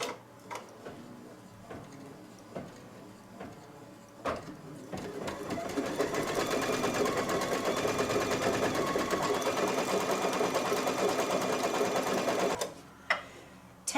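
Embroidery machine stitching a placement line onto fabric, a steady fast mechanical whir of stitches running about seven seconds after a few faint clicks, stopping abruptly near the end.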